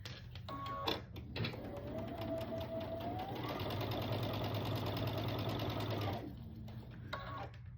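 A sewing machine stitches a quilt block seam. A couple of short bursts come first, then one sustained whirring run of several seconds, then a final brief burst, all close up and with no talking.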